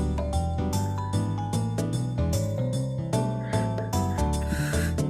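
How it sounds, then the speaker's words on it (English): A bright, bouncy N64 game music loop for an elevator in Bowser's office, with plucky melodic notes and a steady bass line, playing continuously without voices. "Bowser's office has an elevator that sounds like this"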